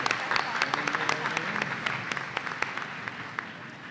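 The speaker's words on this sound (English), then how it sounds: "Please let's give them another round of applause" Applause at a Washburn University commencement ceremony for the Washburn Singers, a steady ripple of clapping from the audience with distinct sharp claps, tapering slightly toward the end.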